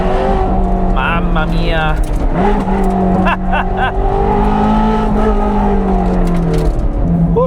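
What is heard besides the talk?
Ferrari 430 Scuderia engine revving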